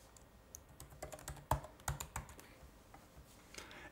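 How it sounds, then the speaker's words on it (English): A password is typed on a computer keyboard while setting up an LDAP server on a Synology NAS, as a quiet run of close key clicks in an uneven rhythm, with no voice. "And enter in the password for that."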